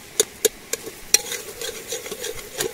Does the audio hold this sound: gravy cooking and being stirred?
yes